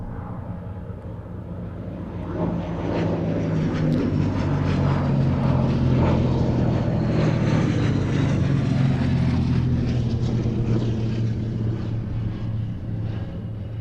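A Gloster Gladiator biplane flies at the Duxford Battle of Britain air show, its propeller engine a steady droning roar that swells and holds at a loud level before easing slightly.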